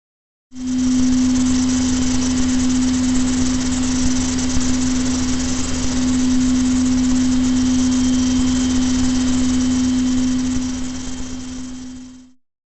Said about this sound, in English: the only sound that I heard was that idling engine noise